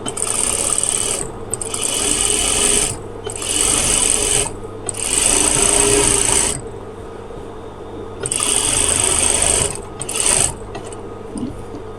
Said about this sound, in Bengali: লক্ষ্য করে আমি সেলাই করে আপনাদের দেখিয়ে দিতেছি